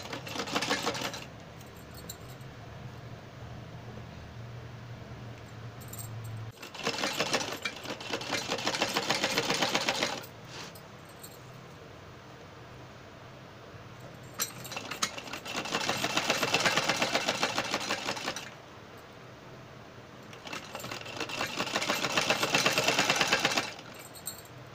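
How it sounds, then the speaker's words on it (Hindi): A sewing machine stitches a lining along a lace edge in three separate bursts of rapid, steady whirring, each lasting several seconds, with quiet pauses between them. "और लेस के किनारे किनारे सिलाई लगाते जाना है।"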